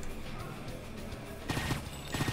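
Rapid bursts of stake gun and Painkiller weapon fire in the shooter game Painkiller, with dense, loud, crackling shots that intensify sharply in the second half.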